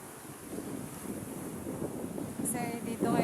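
Steady wind rushing with the wash of surf on a beach during monsoon weather, broad and constant, growing slightly louder toward the end.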